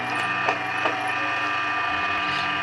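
A Ralson 130 motorized embroidery sewing machine runs with a steady mechanical whir and fast rhythmic ticking of its moving parts, close and constant throughout, with no voices.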